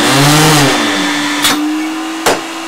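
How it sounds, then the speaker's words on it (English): Vacuum seeder running on an organic farm's tray conveyor, a loud steady whining motor hum with a sustained tone and two brief clacks, close by with no talk. "our vacuum seeder, which I'll demonstrate"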